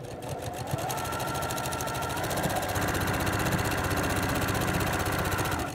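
A sewing machine stitches the border onto a spiderweb quilt, running in one continuous fast, even needle rhythm, close and loud from start to finish.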